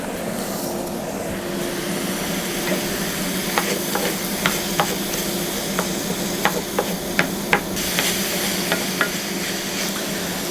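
Celery and unpeeled green apple stuffing cooking in a pan, a steady soft sizzle with a low hum underneath and a run of sharp clicks and taps from stirring through the middle.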